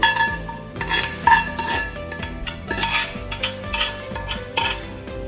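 A metal utensil clinks and scrapes against a pot while shallots and onions are mixed in for an avarai paruppu rice dish, with rapid, irregular bright clatter continuing steadily and close by.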